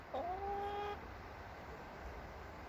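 A single drawn-out chicken call rings out once, fairly faint, over a steady background hum.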